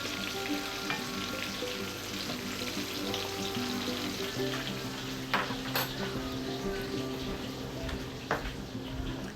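Onions frying in a pan for a snakehead fish curry, a dense steady sizzle with occasional stirring clatter and a faint low hum beneath, no voices.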